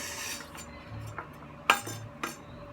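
A knife handled on a cutting board while preparing a chopped salad with tomatoes, giving a few sharp, close clinks and taps spaced apart over faint background music, with no talking.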